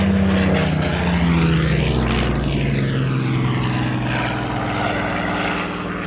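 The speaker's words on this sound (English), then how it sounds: "if you want to hear the sound of warbirds going from one headphone to the other" A warbird propeller plane roars past at an airshow, its loud engine drone sweeping through with a clear Doppler shift as it nears and recedes, steady and continuous without any voices.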